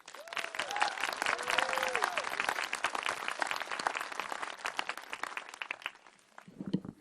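A commencement audience at an outdoor college ceremony bursts into dense, sustained applause that fills the space, with a few cheers on top, then tapers off near the end as a voice starts.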